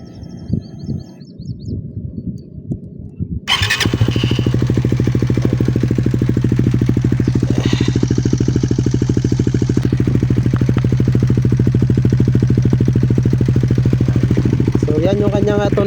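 A Suzuki Raider 150 Fi motorcycle fitted with a Vhenworkz power pipe exhaust starts up after some handling noise and settles into a loud, close, steady crackling idle that runs to the end.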